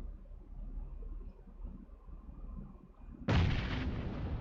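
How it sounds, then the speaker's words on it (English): A grenade detonates in PUBG Mobile as one loud, sudden blast with a long broadband tail, following several seconds of low in-game rumble and ambience. "Oh man, what a grenade!"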